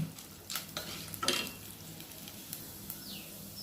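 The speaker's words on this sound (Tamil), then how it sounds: "இது பொன்னிறமானது மற்றதெல்லாம் நம்ம போட்டு வறுத்துடலாம்" Chana dal and dried red chillies fry in a pan with a faint, soft crackle, broken by several quick scraping stirs of a spatula against the metal.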